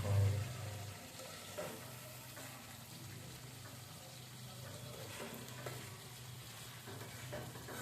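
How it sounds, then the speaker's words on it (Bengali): Spices and chicken sautéing in a pan on a home stove at night, a faint, steady sizzle with soft scraping stirs and a low background hum, quiet and without talking. "কষানো হতেছে মশলা।"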